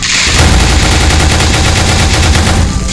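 Rapid, continuous automatic gunfire from a 99-round weapon in the video game Roach, loud and close, a dense burst of shots with no pauses.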